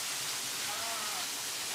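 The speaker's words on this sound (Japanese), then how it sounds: "もう一つの滝にたどり着きました。" A waterfall on Mount Mitake in Ome, Tokyo, gives a steady, dense rush of falling water that fills the whole moment evenly, close and constant, with no break.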